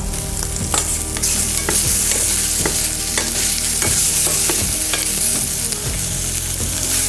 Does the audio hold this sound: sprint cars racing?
no